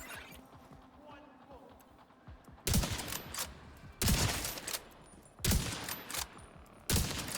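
Rapid high-RPM gunfire in a video game, arriving as four loud bursts of spammed shots roughly a second apart, each separated by a quieter stretch with low background noise.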